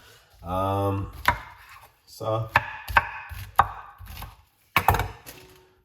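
A knife chops through pineapple on a board, with several sharp, uneven cuts and knocks spread across the clip. A voice speaks briefly in between.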